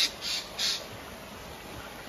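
A bird near a spring in Oliena, Sardinia gives two harsh, raspy calls in quick succession, moderately loud over steady outdoor noise, with no talking.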